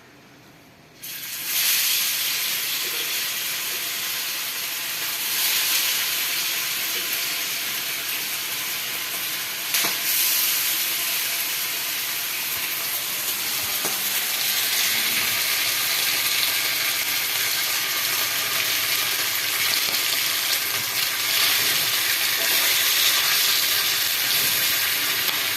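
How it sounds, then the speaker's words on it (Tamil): Fish sizzles steadily in a frying pan in a home kitchen, a loud, continuous crackling hiss that starts abruptly after a moment of quiet and holds for the rest of the clip, with no voices. "அதனால் மீன் சுட்டு கொடுத்துட்ருக்கேன்"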